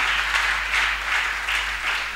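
Church congregation applauding during a service, a dense steady patter of clapping that swells in waves, fairly close and continuous with no voices over it.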